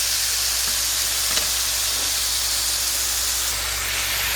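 Smashed bison meat searing in a hot pan gives a loud, dense, continuous sizzle and steamy hiss, close and steady with a faint crackle now and then.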